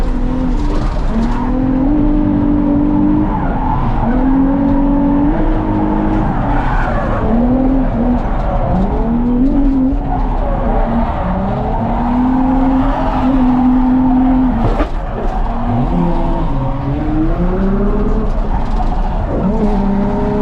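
A BMW M4 on a track runs a slow lap with the handbrake engaged to heat the tires, its engine droning loudly and continuously with rising and falling revs and tire noise throughout.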